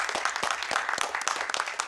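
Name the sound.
round of applause at council meeting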